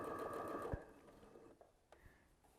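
A sewing machine top stitches a fabric scrunchie with a soft, close, fast-running stitching hum that slows and stops partway through, followed by a couple of light clicks.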